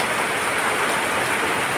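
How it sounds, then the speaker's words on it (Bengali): Continuous heavy rain pours down in a dense, even roar of drops with no pauses or voices over the short stretch. "গতকালকে থেকে অনবরত বৃষ্টি এভাবেই পড়তে আছে।"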